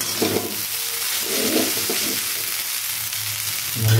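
Vegetables for street-style veg chowmein fry in a hot pan, a loud, continuous close-up sizzle and hiss with occasional stirring scrapes throughout.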